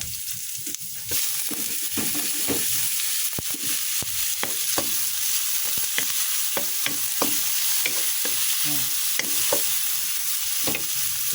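Chopped onion and tomato sauté in a pan with a constant bright hiss, broken by frequent sharp taps and scrapes of a spoon stirring.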